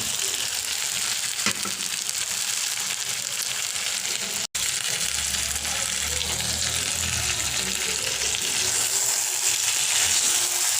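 Tomatoes and peas added to local chicken frying in a pan, a steady close sizzle with stirring and a brief clatter partway through, no voices.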